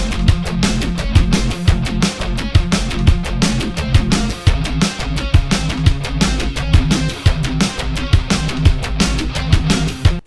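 A rock drum and bass loop drives steadily throughout, dense punchy drums over a chugging Vital synth bass layered beneath an electric guitar sample, loud and continuous with no talking.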